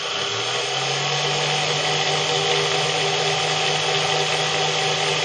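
A six-pole bifilar motor running at zero load gives a loud, steady, close hum with a constant low tone and broad whirring noise, continuous and unchanging throughout, no talking.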